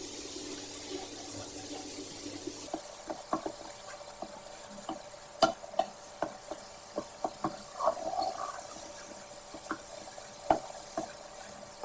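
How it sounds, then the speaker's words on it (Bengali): Tomato pizza sauce cooking down on high heat in a pan, a soft bubbling sizzle with frequent irregular clicks and scrapes of stirring, close and moderately quiet. "এবার একটু হাই হিটে ভুনে নেব"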